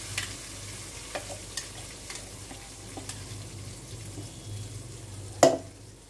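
Ground onion and green chili paste frying in a pan with kasuri methi for a low-oil onion, tomato and garlic masala: a soft, steady sizzle with scattered light stirring clicks and one sharper utensil clank near the end.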